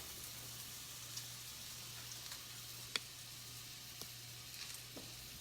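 Butter sizzling in a hot pan, a soft steady frying hiss with a low hum beneath and a few faint ticks and pops, quiet and close, no one talking.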